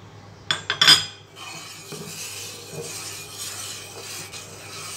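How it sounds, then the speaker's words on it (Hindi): A spoon scrapes and rasps against a pot of jaggery rice kheer with milk, cardamom powder and bay leaves, starting with a few louder clinking scrapes and then settling into softer continuous stirring and bubbling. "अगर हम मुसलसल चम्मच नहीं चलाएंगे तो गुठलियाँ बन जाएंगी"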